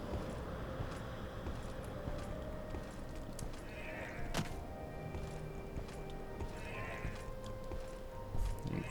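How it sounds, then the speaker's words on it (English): Goats bleat in the Morrowind video game, a few distinct calls rising over a steady bed of game ambience and background music, moderately close and not very loud. "These goats. Hey, goat."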